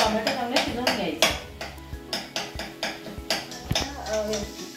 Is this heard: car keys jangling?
no